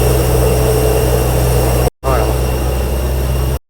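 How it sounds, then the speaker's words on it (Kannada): Airliner engine drone inside the cabin of a Vistara flight, a loud steady low hum with a constant tonal whine, cut by a brief dropout, with faint voices beneath. "ಫ್ಲೈಟ್ ಒಳಗಡೆ ಬಂದು ಕೂತ್ಕೊಂಡ್ವಿ."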